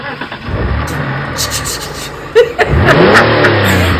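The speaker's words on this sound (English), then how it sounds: "So me, now, starting the car." A car engine cranks and catches near the midpoint, then settles into a running idle that grows louder and rougher, heard close up from inside the vehicle without talking.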